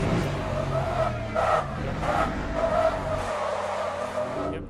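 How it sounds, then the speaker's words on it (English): A race car in a racing video game spins out with loud tire skidding and squealing over a steady engine drone, the screech sustained for several seconds before fading. "Brad Pitt in F1 just managed to spin out."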